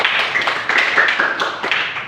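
Students in a classroom clap together in a quick burst of dense, overlapping hand claps with a few sharper taps, lasting steadily throughout with faint voices mixed in.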